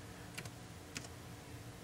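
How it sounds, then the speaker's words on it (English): A few keystrokes on a computer keyboard while entering an EEPROM part number during in-circuit reading of a SAAB 9-3/9-5 CIM module, soft clicks in two small bursts over a steady low hum. "So I'm going to type"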